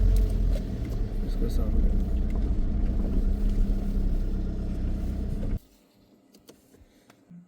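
A car engine idles with a low, steady rumble as the car is pulled over by a dark roadside, someone talking over it, then the engine cuts out abruptly, leaving near quiet.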